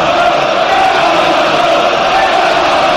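A football crowd urging Arsenal on in the final minute of added time against FC Porto, a loud, continuous roar of massed voices, chanting and cheering that fills the stadium.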